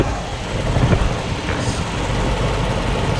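A 2007 Dodge Charger SRT8 with a 6.1 liter Hemi V8 idles nearby, giving a steady, deep low rumble that holds even throughout.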